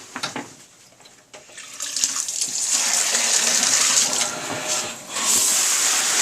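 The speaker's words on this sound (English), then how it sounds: "Let's go start the shower, see how it does." Steady rushing water from a running shower, starting with a few clattering handling sounds, then a continuous close spray with a brief dip near the end.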